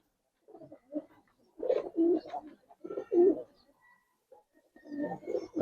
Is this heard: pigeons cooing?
yes